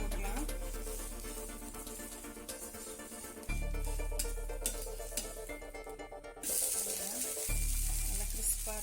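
A wheat dosa cooking in a pan with sesame oil or ghee, a continuous close sizzle and crackle running beneath someone talking, with a few shifts in level as the dosa is handled.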